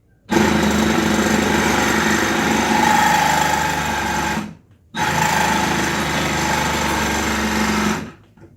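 Milwaukee M12 Fuel cordless hacksaw 2520-21 cutting on a bench top, a loud steady buzzing run of about four seconds, a brief stop, then a second equally long burst.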